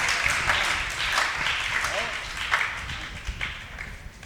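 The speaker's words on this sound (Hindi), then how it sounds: "जोरदार तालियों से स्वागत करते रहें।" At an award ceremony during a Jain religious gathering, the audience applauds, a moderate, fairly even patter of clapping with sharper individual claps standing out and murmuring voices mixed in.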